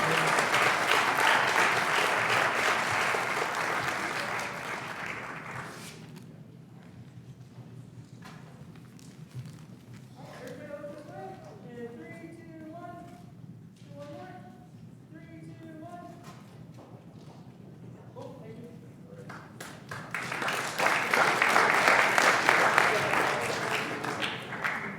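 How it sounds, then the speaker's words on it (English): Audience applause after a board of directors meeting honoring stair climbers: loud broadband clapping fills the opening seconds, a spoken stretch follows, then a second burst of applause rises near the end. "one more round of applause"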